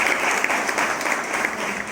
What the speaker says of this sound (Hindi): इसलिए हम सभी अपनी खुशी में एक बार जोरदार ताली बजाएं।